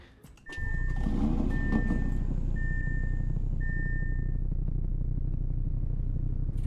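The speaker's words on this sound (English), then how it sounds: "There's a little idle sound, like just sitting here." An Audi RS3 idles in the Roblox game Greenville with a steady low engine rumble that kicks in after a brief start and holds evenly, while four short high-pitched chime tones sound in sequence over it.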